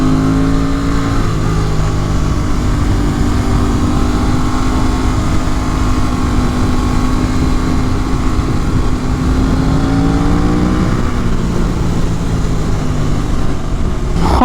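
A sport motorcycle on a ride with a steady loud engine drone and some wind buffeting, the pitch rising and falling slightly through a curve, with no talk.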